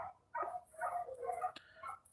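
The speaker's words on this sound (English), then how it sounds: "I wish these dogs shut up." Several dogs bark outdoors in quick repeated bursts, fairly close and moderately loud, with short yips between the barks.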